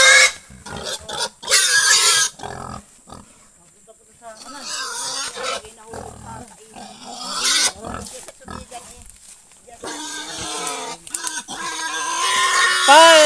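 A pig grunts and squeals loudly and repeatedly at close range, in bursts, while several people talk and shout around it.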